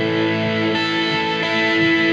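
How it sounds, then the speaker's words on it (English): Electric guitar, a Stratocaster with a Seymour Duncan mini humbucker played through Logic's reverb for a church livestream, ringing sustained chords with a fresh strum partway through, loud and close with a washy reverb tail. "It's got a little bit of reverb on it."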